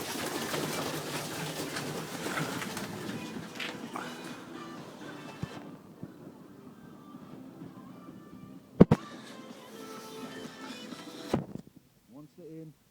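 Young pigeons coo softly inside a loft while a person talks steadily over them, with a few sharp knocks and clatters near the end.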